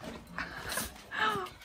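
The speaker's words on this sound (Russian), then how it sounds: "Собаку искупали. Она бесится." An excited dog just after a bath gives a few short whimpering yips and snuffling noises, close by and indoors, over a soft background.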